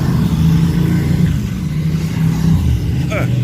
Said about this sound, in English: Excuse the motorcycle noise.